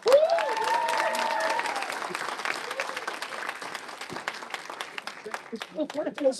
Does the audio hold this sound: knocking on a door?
no